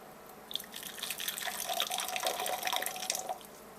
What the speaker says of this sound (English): so I'm going to add 60 grams of water